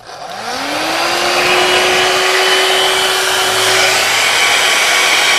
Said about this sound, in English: Close your ears while I turn on my hair dryer.